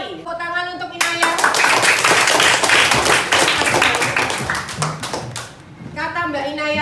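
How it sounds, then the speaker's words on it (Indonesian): Classmates in a school lesson give a student a round of applause, a dense burst of hand clapping lasting several seconds, with a teacher's voice speaking just before and after it. "Tepuk tangan untuk Inaya"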